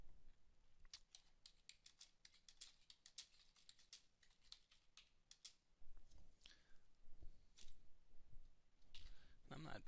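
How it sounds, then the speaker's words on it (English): Rapid clicking keystrokes on a computer keyboard come in bursts and pauses, close by and fairly quiet. Faint speech murmurs beneath the typing. "I'm not being a very good typer today"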